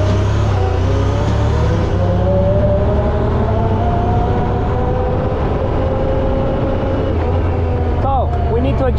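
A 2022 Honda Pioneer 1000-5 Forest Edition side-by-side drives on an asphalt street, its engine and road noise a steady, loud, close drone throughout.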